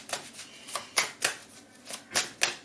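Tarot advice cards being shuffled by hand, a quick series of about eight crisp papery riffles and slaps in an even rhythm, close and fairly quiet with no talking.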